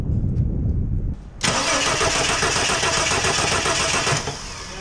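A 1983 XE Ford Falcon running rough after switching between gas and petrol: low cranking churn, then the engine catches with a sudden loud roar and runs unevenly close by.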